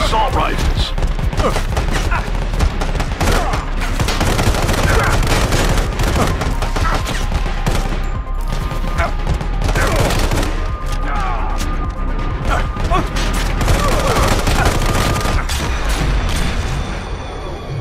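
Steady assault rifle fire from the Sniper Fury game, a dense, continuous stream of sharp shots and impacts lasting the whole stretch, loud and close against a low background rumble.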